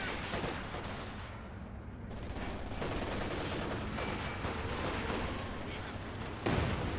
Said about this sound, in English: Big Katusha barrage.